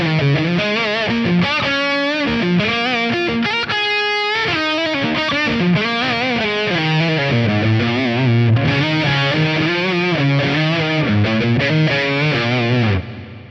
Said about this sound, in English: this preset number 1, the tube overdrive thing doesn't sound that bad